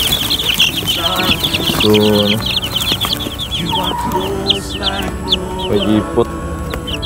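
Rhode Island White chickens cluck and squawk in a farm yard, many birds at once with high chirps among them, close and busy, with someone talking briefly over them.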